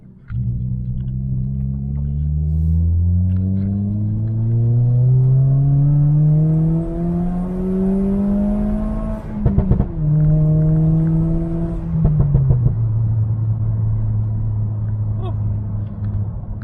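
A turbocharged Toyota Corolla with a 3-inch custom exhaust pulls hard through the gears, its loud droning note rising steadily, dipping at each shift, then climbing and easing off again.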